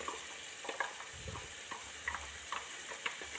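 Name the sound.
ground spice and coconut paste added to sizzling pan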